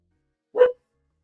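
A single short, loud dog bark, close and abrupt, alone in silence.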